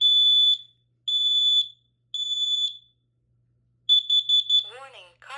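A Kidde Nighthawk KN-COSM-B smoke and carbon monoxide alarm being tested gives three loud, piercing high beeps, then a fast run of four shorter beeps, before a voice starts talking near the end.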